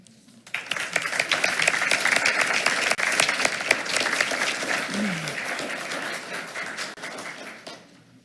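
A school board meeting audience bursts into applause for an honoree, starting abruptly and holding as dense, even clapping for about seven seconds before tapering, with a voice briefly heard through it.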